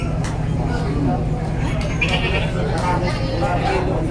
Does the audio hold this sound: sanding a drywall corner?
no